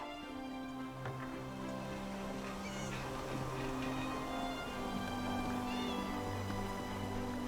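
Several cats meow in the Elder Scrolls Online video game, drawn-out cries rising and falling over a soft, steady background of musical tones.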